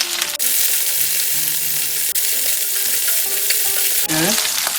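Shishito peppers fry with garlic in oil in a pan, giving a loud, continuous close sizzle with brief stirring scrapes and no voices.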